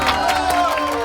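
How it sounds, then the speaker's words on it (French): A crowd claps and cheers in a short, steady burst of mixed voices and hands, close and fairly loud, celebrating a painter's success. "La foule applaudit."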